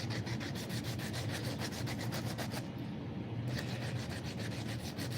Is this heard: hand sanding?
yes